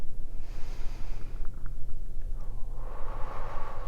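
Slow, audible breaths during a chair yoga stretch, a soft airy exhale followed later by another drawn breath, close and steady over low background hum, with no talking.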